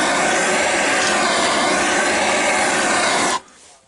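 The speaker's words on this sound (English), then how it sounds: "This hand blender comes with a whisk." A hand blender with a whisk attachment mixing eggnog gives a loud, steady whirring with a rough rasping edge, running continuously until it cuts out abruptly, with no talking.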